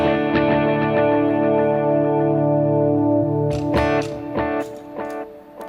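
Electric guitar played through a Line 6 Helix with the reverb mix turned down for a cleaner tone: sustained ringing chords give way to several sharply picked notes, each trailing a light ambient wash.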